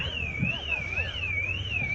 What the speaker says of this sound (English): And there's an alarm going off somewhere.